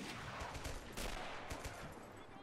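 Distant crackling rifle fire from Lee Enfield and K98 rifles in the Men of War video game, a dense, fairly faint rattle of overlapping shots throughout a battle.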